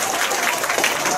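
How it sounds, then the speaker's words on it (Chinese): Students in a middle school assembly applaud during an anti-drug awareness show, a dense, even burst of crowd clapping lasting about a second, loud and close with no speech on top. "掌声鼓励一下"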